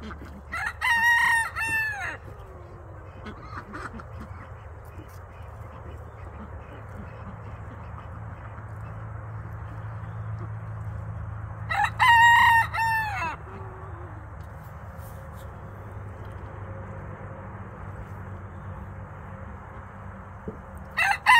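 Backyard flock of chickens and roosters: two loud rooster crows ring out near the start and again midway, with low clucking and scattered fowl calls filling the quieter stretches between.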